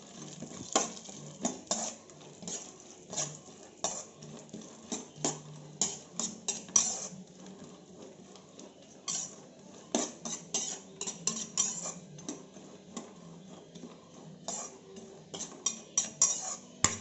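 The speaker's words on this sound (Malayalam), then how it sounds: "നമ്മുടെ നെയ്യ് നല്ലോണം ചൂടായിട്ട് വന്നിട്ടുണ്ട്. ഇനി നമുക്ക് നമ്മുടെ അണ്ടിപ്പരിപ്പ് ചേർത്ത് കൊടുക്കാം" Cashew nuts fry in hot ghee while a utensil stirs and scrapes the pan, giving repeated light clinks and taps over a faint, steady sizzle, with no talking.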